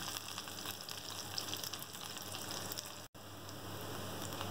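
Half a teaspoon of cumin seeds sizzles steadily in hot oil as a tempering for mixed dal, a continuous dense crackle that cuts out abruptly for a split second before resuming.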